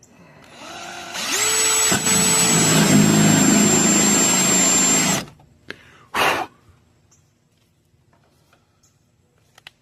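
A power drill with a dull bit whines loudly for about four seconds, working on a 2002 GMC Sierra for a line lock install, then stops, followed by a short second burst and quiet clatter.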